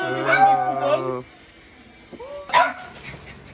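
A dog barks and yips at a gathering of 49ers fans, a few brief barks rising among people talking and calling out nearby.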